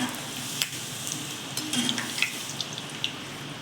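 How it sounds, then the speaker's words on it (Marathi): Dumplings frying in oil over a lowered gas flame, a steady soft sizzle with light crackles and faint scraping, fairly quiet and continuous with no voices. "आणि मग थोडा कमी गॅस करून तळा"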